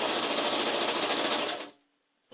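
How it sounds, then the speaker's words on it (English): Sewing machine stitching quilt pieces: a steady fast whirring run for about a second and a half that stops abruptly, then near silence. "And I'm sewing them"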